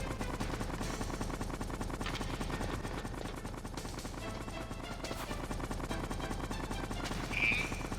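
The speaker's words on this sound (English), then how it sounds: "That does not sound like a healthy helicopter." A damaged helicopter in the video game Metal Gear Solid gives a loud, steady mechanical drone with rapid rotor chatter throughout, and a person talks over it.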